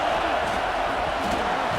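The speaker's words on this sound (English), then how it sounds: "This crowd bringing the energy and noise early." Steady stadium crowd roar from a college football video game, a dense, continuous wash of noise with no breaks.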